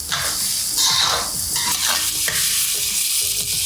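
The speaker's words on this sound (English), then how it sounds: "keep stirring it so that they get fried evenly" Onions fry in a hot pan as a spatula stirs them continuously. A loud, close sizzle runs throughout, with scraping strokes and no voices.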